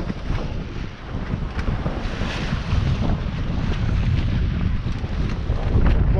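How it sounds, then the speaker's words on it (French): Loud, constant wind of about 23 knots roars across the microphone on a sailboat, alongside rushing water and waves, a dense, unbroken blustery noise out on open sea. "On sent qu'il y a du vent toujours, effectivement."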